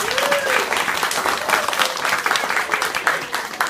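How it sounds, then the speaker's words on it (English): A school audience claps steadily for third-grade shadow puppet performers as they take their bows, a dense, even round of applause at close range. "A round of applause as they bow."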